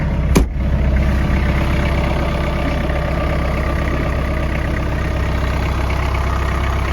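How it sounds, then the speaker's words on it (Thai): An old Japanese Iseki 55-horsepower tractor's diesel engine idles steadily and close by, a low continuous rumble with a brief knock near the start, no voices. "ตัวนี้ก็จะเป็นเครื่องยนต์ดีเซล"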